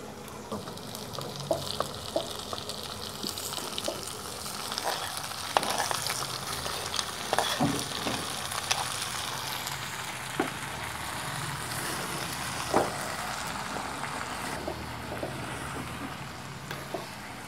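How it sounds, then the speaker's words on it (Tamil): Cuttlefish fries in a pan with softened onions for a spicy Jaffna-style curry. A long, even sizzle carries on throughout, broken by occasional clicks and scrapes of a stirring spoon. "வெங்காயம் வதங்கின இதிலையே கணவாயை போட்டுருவோம்"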